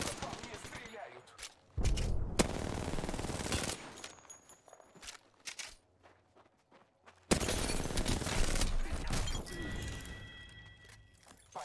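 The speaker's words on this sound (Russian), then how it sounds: "По мне стреляют." Gunfire aimed at the player in a battle royale shooter game, with dense bursts of automatic fire and crackling impacts. Loud volleys alternate with quieter stretches, and a voice is heard in places.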